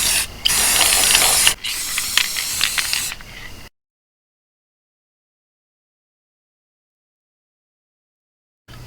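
An aerosol can sprays paint onto a welded trailer light bracket, giving a close, loud hissing spray that breaks briefly, resumes with rattly bursts and then cuts to silence.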